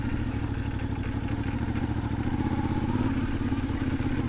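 CFMOTO 450MT motorcycle engine pulling steadily in second gear, a close, continuous mid-pitched drone with a faint rhythmic pulse and slight rise in intensity partway through, no talk.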